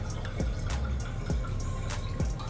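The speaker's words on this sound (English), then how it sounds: "now we're gonna pour in our tequila" Tequila poured into a glass close by, with a steady trickle broken by a few soft drips and splashes.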